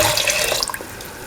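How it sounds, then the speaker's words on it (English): A short, close splash of coconut milk pouring steadily into a pan, a wet gurgling rush that tapers off after about a second. "Now pour in 250 ml of coconut milk."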